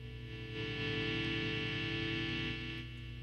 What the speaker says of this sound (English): you'll hear the hiss come in now as the gain is of course increasing